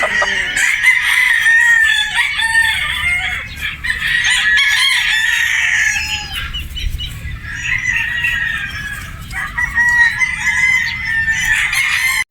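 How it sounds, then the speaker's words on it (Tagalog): A Boston Roundhead brood stag crows loudly and close, several long crows in a row with short clucks and some wing flapping between them, with no talk. "So ito po mga bossing, isang Boston Roundhead brood stag."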